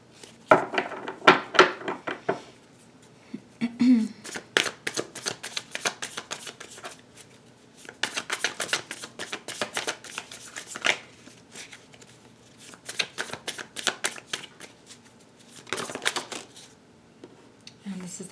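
Tarot cards shuffled by hand in a series of rapid riffling bursts with brief pauses between them, close and moderately loud, during a reading for Cancer.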